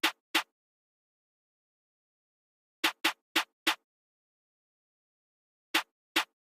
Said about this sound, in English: Since this is a drill beat, I started off with this hi-hat snare sound.